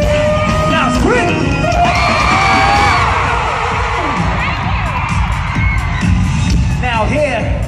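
A concert crowd at a show in Bangkok screams and cheers loudly, with sustained yells and whoops rising and falling, while a voice is heard amid the noise.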